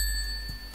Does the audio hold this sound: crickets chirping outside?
no